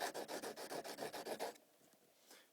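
Steady rhythmic rasping strokes, about a dozen back-and-forth rubs in quick succession as a drill bit is sanded by hand, close up, then stopping into quiet.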